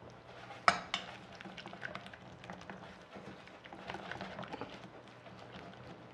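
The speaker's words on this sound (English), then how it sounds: "Now just mix them up thoroughly." Chocolate mousse mixture stirred in a bowl, a steady soft scraping and clinking of utensil against the dish with one sharper knock near the start, moderately close and continuous.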